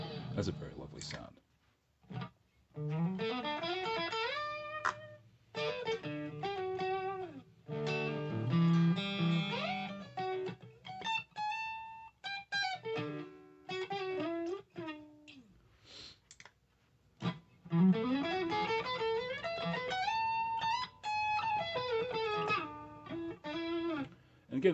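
Clean electric guitar tones played through a Leo Jaymz portable multi-effects amp modeler, with picked notes and chord phrases separated by short silences and the odd click.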